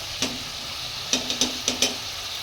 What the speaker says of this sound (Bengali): এবার এটাকে ভালো করে ফেটিয়ে নিতে হবে।